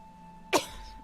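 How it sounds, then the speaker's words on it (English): A single short cough from Grandma in the narrative game What Remains of Edith Finch, one sharp burst heard alone over a quiet steady hum. "Thanks for coughing on my flower, Grandma"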